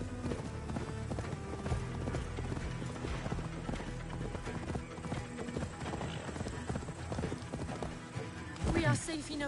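Horse hooves in the video game Assassin's Creed Valhalla clip-clop in a steady trotting rhythm over continuous background sound, with a brief horse whinny near the end.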